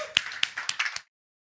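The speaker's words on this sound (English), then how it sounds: "Round of applause." Sparse applause from a small audience at a startup pitch event, a handful of distinct claps over about a second before cutting off into silence.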